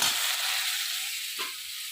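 Raw jackfruit and potatoes frying in spiced oil in a kadai give a steady, close hiss and sizzle that fades slightly over two seconds.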